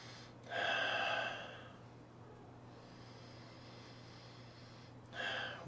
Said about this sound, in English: let me give this a little sniff